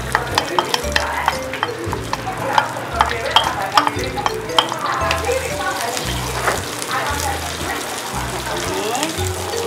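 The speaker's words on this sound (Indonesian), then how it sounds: "Kita tumis bumbunya, bawang putih," Spice paste with garlic and shallots stir-frying in a pan, a close, steady sizzle broken by repeated scraping and clacking strokes of a spatula, with bubbling underneath and a faint voice now and then.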